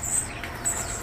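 High, thin chirps from songbirds in a bird shop come in two short bursts over a soft background hiss, faint and somewhat distant, with no talk.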